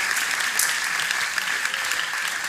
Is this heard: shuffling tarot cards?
no